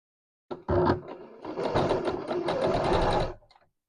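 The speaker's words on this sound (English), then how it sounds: "we are now going to sew this with 1 centimeter seam allowance and then remove the gathering" Up close, a sewing machine runs in short bursts, then settles into a steady run of about two seconds while stitching the ruffle seam on a blouse.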